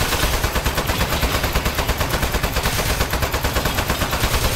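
Sustained rapid-fire gunshots from turrets in the video game Aperture Desk Job, loud and dense with an even machine-gun rhythm throughout.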